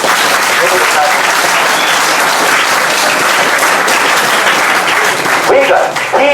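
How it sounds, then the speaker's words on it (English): Loud, sustained clapping from a large audience, a dense steady wash of many hands, with a voice briefly rising over it near the end. "we need to clap for him"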